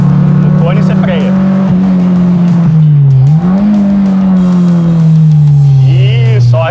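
A Peugeot track-day car's engine drones loud and close, its pitch dipping and rising with throttle as it works through cones on a track, with an instructor talking over it.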